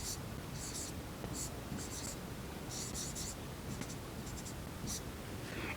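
Pen writing out a maths solution, a steady series of scratchy strokes in short bursts, close and fairly soft, with faint murmuring underneath.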